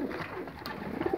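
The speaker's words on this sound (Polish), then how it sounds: "Łapię gołąbka." Pigeons coo softly and repeatedly close by in a loft as one is caught, low burbling calls over a rustling, muffled background.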